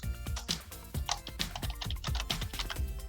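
Someone types a username and password on a computer keyboard, with quick irregular clusters of close, crisp key clicks and brief pauses between bursts.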